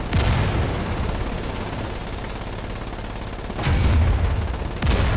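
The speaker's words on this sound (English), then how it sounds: "We can't adjust right now, we're under mortar fire." Mortar impacts and gunfire in the war game Foxhole during an emergency artillery battle at Iron Junction, a dense rumbling barrage with heavier booming bursts near the start, middle and end.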